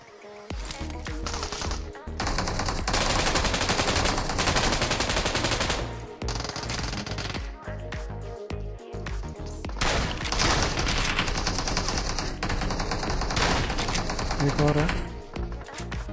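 Rapid bursts of shotgun blasts and automatic gunfire in a close-quarters rush in PUBG Mobile, loud and sustained for most of the stretch, with excited players shouting over the shooting.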